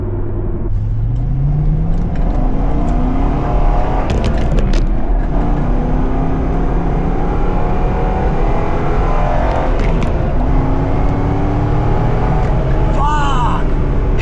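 A Chevrolet Z06 sports car with a manual gearbox revs hard and climbs through the gears, its engine note rising in repeated sweeps and loud throughout, with a voice shouting briefly near the end.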